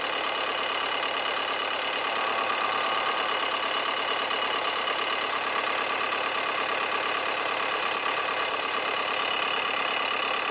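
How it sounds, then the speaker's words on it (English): An Audi A6 engine idles steadily after starting, a continuous even mechanical hum with a faint ticking texture and no voices. "I'm going to start the engine and let's see."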